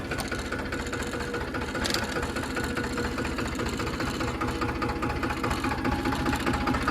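A tractor engine runs steadily at a moderate distance on a farm, giving a continuous low rumbling drone with a faint rattling knock for the full stretch and no voices.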